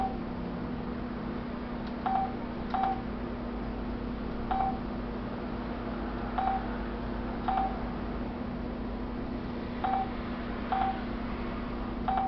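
A mobile phone ringtone plays a sparse pattern of short, clear beeps at irregular intervals over a steady background hum, with no talking.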